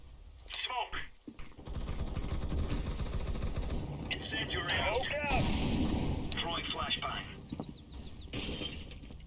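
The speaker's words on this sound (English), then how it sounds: "Throwing flashbang. Deploying flashbang." A flashbang grenade goes off in Counter-Strike: Global Offensive on the Inferno map, giving sharp shattering bursts and rumbling blasts mixed with in-game voice callouts over about nine seconds.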